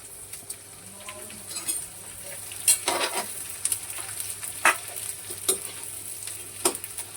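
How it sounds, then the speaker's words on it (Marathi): Edible gum pieces fry in hot ghee with a steady bright sizzle, broken by sharper crackling bursts and occasional spoon scrapes against the pan; no voices. "पहिले तर याच्यामध्ये डिंक तळून घेते आधी सगळा."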